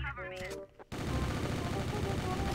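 B90 gunfire in the shooter game CrossFire starts suddenly after a short bit of other game sound and continues as a dense, loud, sustained burst of rapid shots.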